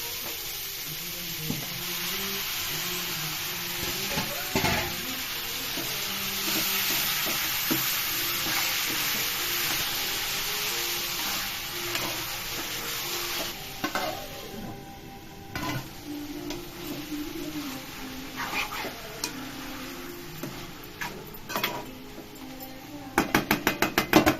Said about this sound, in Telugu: ఇప్పుడు మటన్ వేసుకోవాలి ఫ్రెండ్స్.